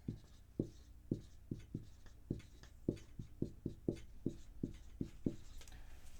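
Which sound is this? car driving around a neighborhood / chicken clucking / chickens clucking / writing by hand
writing by hand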